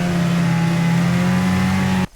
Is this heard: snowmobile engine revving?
yes